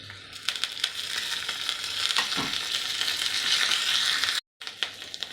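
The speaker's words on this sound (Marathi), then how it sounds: "तडक्यात छान झालेला आहे मिरची पण मस्त तळल्या गेली आहे" Tadka of green chili, curry leaves, grated ginger and coriander frying in hot oil, a steady close sizzle with crackles and scraping stir sounds, broken by a brief silence near the end.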